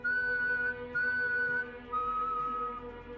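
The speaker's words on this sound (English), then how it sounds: "3 long whistles, then silence." Three long, steady whistles, each held for about a second with short gaps between them, clear and alone against a faint background hum, used as an eerie horror-story effect.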